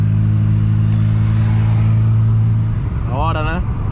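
A car engine drones steadily and close while driving, then the tone drops and shifts as the driver changes into fifth gear, with a short rising and falling revving sweep near the end.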